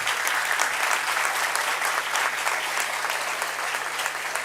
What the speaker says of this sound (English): Here, sir needs a very big round of applause.